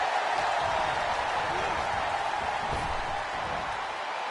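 A dense, steady roar from a large arena crowd cheering throughout a WWE wrestling match on PS5, an ambulance match with Brock Lesnar, Goldberg and Roman Reigns, holding loud and unbroken from start to finish.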